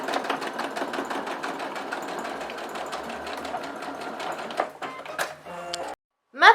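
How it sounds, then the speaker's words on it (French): A sewing machine topstitches two pieces of fabric on a pyramid pouch, with rapid, even stitching chatter up close. It slows into a few separate clicks and pauses, then a final short burst follows. "Je me positionne et c'est parti pour ma surpiqûre."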